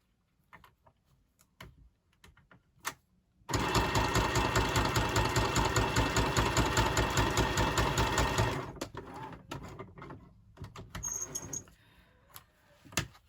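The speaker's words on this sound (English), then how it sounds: "I'll just stitch across the top." A sewing machine stitches across the top of a fabric craft tag, running loud and steady for about five seconds with a fast rhythmic needle beat, framed by quieter handling clicks before and after.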